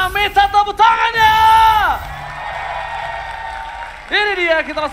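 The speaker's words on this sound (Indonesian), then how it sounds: "EPL Arena, minta tepuk tangannya!" An esports arena crowd at a Mobile Legends MPL match cheers and applauds beneath a loud, excited announcer's voice, with a broad wash of clapping and whooping that carries on steadily as he speaks.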